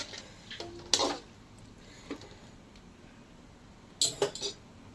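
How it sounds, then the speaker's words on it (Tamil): A spoon scrapes and clinks against a pot while mutton head curry with drumstick pieces is stirred, a few sparse metallic knocks over a quiet background. "நல்லா கலந்து விட்டுக்கலாம்."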